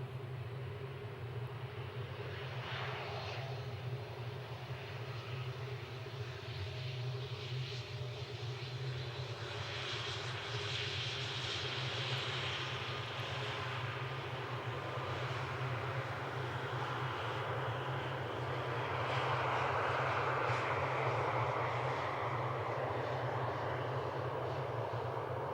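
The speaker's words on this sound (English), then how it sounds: "those 3 planes are gonna be the last one for today" Jet aircraft at Amsterdam Schiphol airport on a cold evening, a steady broadband engine roar held throughout and swelling slightly toward the end as planes pass, with no talk.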